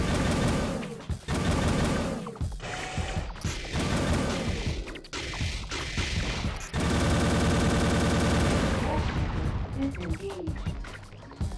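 Weapons fire in the PS2 game Armored Core 3 in loud, rapid mechanical bursts, rattling volleys separated by short gaps, with a long sustained stretch of fire near the end before it drops to scattered softer impacts.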